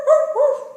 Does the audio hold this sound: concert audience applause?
no